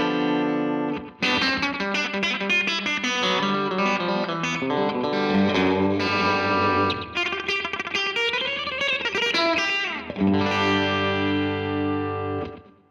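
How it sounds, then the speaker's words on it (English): Electric guitar through a Vox VT+ modeling amp's American clean model with compressor, tape-style slapback delay and spring reverb: clean, bright chords and single-note runs, short slapback echo, springy reverb tail; loud and close, no voices. "an American clean amplifier with a compressor from the pedal section, a slapback taped style delay, and a spring reverb"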